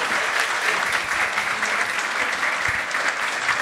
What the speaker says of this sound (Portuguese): Uma salva de palmas para os nossos astros.